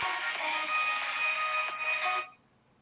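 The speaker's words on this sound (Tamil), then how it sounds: "ஓகே கைஸ், ஒரு ஃபோன் கால் வந்துருச்சு." A phone rings with an incoming call, a bright electronic ringtone held loud and close for a couple of seconds before cutting off into near silence.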